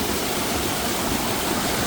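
A waterfall roars steadily, a dense unbroken rush of falling water that fills the whole clip at a constant, fairly loud level with no voices.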